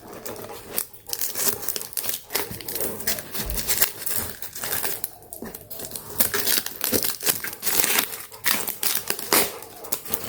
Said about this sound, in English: It's the old masking tape.